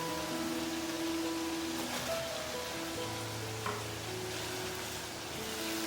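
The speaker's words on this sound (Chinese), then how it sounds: "炸去蒜蓉的辛辣味之后呢，就可以放入辣椒。" Chili peppers fry in garlic oil in a wok over medium-low heat, a steady soft sizzle with occasional scrapes of a spatula stirring, fairly quiet and continuous.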